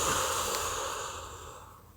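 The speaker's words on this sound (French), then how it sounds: "Et soufflez, relâchez." A person exhales long and deeply during a sophrology relaxation exercise, releasing a held breath in one steady airy rush that fades gradually over two seconds, close and without talk.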